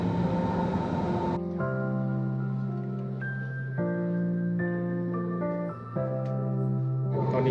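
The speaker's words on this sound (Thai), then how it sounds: "ตอนนี้เราอยู่ในขบวนรถไฟ" Steady rumble and whine inside a moving above-ground train car in Berlin, with shifting mechanical tones rising and stepping as the train runs.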